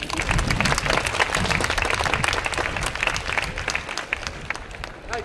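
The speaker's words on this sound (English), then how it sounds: "Give her a round of applause." A crowd gives a round of applause in a steady wash of dense clapping that holds at moderate loudness and eases slightly toward the end, with faint voices mixed in.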